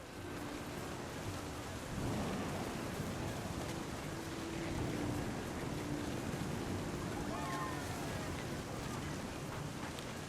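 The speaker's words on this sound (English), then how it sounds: "The thunder sounded much too close and full of angry power." A steady, low, rushing roar of thunder and rain in the What Remains of Edith Finch video game, rumbling evenly throughout at a moderate, distant level.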